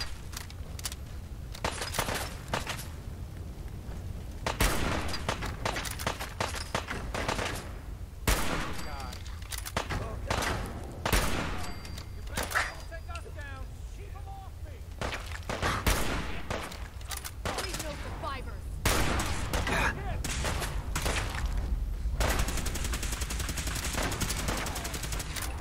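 Repeated gunfire from the video game Fallout 4: sharp shots and short bursts crack throughout over a busy game soundscape, with a voice talking at times.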